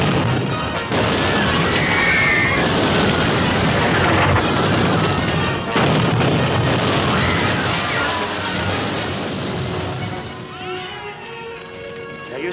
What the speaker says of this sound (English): They're using the big guns now.